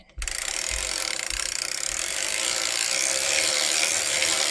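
A circular sock knitting machine is cranked after a brief quiet start, giving a loud, continuous mechanical ratcheting whir that rattles on without pause.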